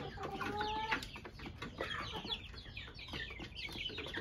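Several chickens and roosters clucking close by, a busy overlapping chorus of short clucks and squawks, with a higher call near the start.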